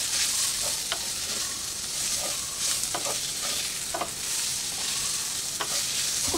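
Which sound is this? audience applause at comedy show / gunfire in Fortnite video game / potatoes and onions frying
potatoes and onions frying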